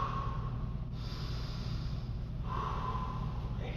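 Heavy, steady breathing from people recovering after a beginners' martial arts workout, a continuous breathy rush that holds throughout at close range with no talking.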